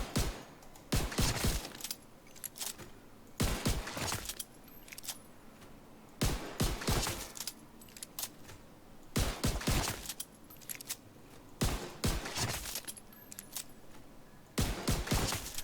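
Pistol fire in The Division 2, a shooter video game: a steady series of sharp single shots in paired bursts every couple of seconds, moderately loud over a low background hum.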